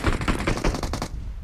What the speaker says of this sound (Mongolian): Энэ өндөр дээр нэг хүн буудаад байсан.